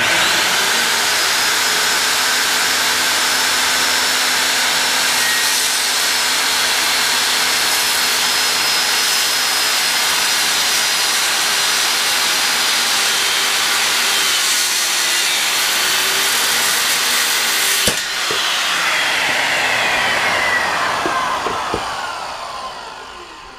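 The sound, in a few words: skill saw cutting and kicking back on material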